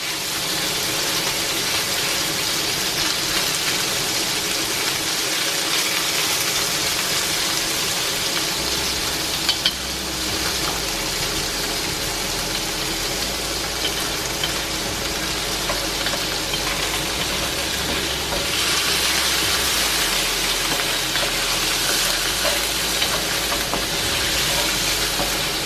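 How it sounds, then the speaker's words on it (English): Beef frying in oil in a pan for stir-fried rice noodles, giving a steady, even sizzle that runs unbroken throughout, with a low hum underneath and no voices. "So first I'm going to cook beef first, yeah?"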